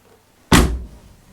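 A Jaguar MK2 car door slams shut once, a single loud, close solid thud with a brief ringing decay, heard alone in a quiet garage after new door seals and furflex have been fitted.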